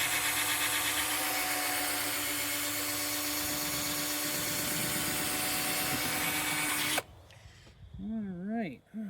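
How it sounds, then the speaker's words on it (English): A handheld power drill whines at full speed while polishing a car headlight with a restoration kit, loud and steady for about seven seconds before cutting off, then a voice speaks. "That's full speed on my drill."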